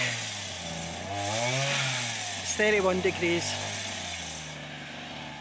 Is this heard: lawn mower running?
yes